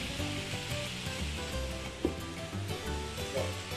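Lemon juice sizzling and evaporating in a hot pan while sea bass (ombrina) fillets cook, a steady dense hiss throughout with a brief sharper spatter midway.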